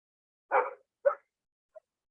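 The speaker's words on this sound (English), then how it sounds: "That's the bark of a desperate German shepherd." A German shepherd lets out two short, close barks in quick succession, then a brief faint yip, with silence on either side.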